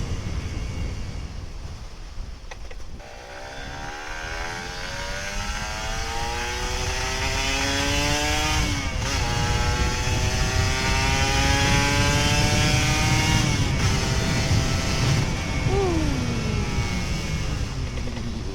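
A Kawasaki Ninja RR 150 two-stroke motorcycle engine revs repeatedly, pitch climbing and dropping with each throttle blip, loud and close, with no talking.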